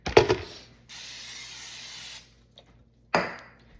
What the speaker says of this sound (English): So we always just do a little spray into the pots.